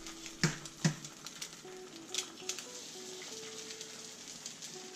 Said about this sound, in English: using the bacon grease still left on the pan, cook your eggs so as to infuse the pork taste